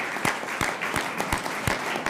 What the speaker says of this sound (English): if we can give maybe Gene and the team a big round of applause